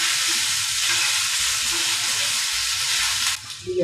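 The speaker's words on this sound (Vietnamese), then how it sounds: "Ta quậy gia vị lên cho thật là đều" A spoon stirs a seasoning mixture of sesame oil and pepper for Thai-style steamed shrimp, making a steady, close wet stirring and sizzling sound with no pauses.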